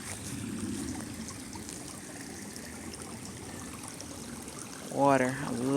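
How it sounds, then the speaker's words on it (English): Soft, steady trickle of a stream on a nature walk, faint and continuous, with a voice speaking over it near the end. "Water, I love it."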